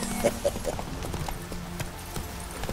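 Horse hooves clip-clop in a steady rhythm early on in The Witcher 3 video game, then fade into a softer patter under a low ambient hum.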